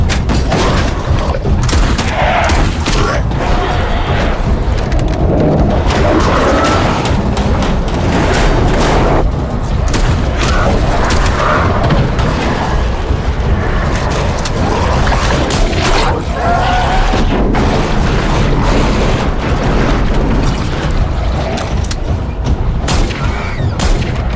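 Dense bursts of video game gunfire and heavy booms rattle on continuously, loud and chaotic, with occasional voices mixed into the battle noise.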